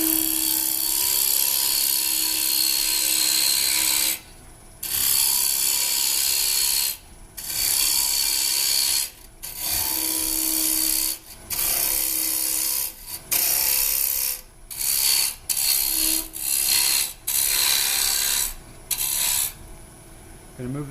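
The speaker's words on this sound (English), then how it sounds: "Now we're just going to shape the outside of the bowl." A wood lathe spins a bowl blank while a carbide tool shapes its outside, giving a loud, close scraping roar broken by repeated short stops as the tool lifts away.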